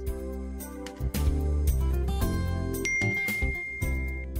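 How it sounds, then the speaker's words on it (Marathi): A bright chiming notification tone from a phone sounds against background music, several short dings with a sustained ringing note near the end, moderately loud and without talk. "ए, तुला मेसेज आला?"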